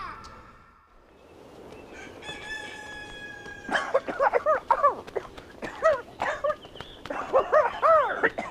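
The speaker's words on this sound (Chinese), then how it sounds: "这狗叫的吓人不？" A dog barks repeatedly in sharp, loud bursts over the second half of a scene from a Chinese costume TV drama, following a quieter stretch of ambient sound and tones.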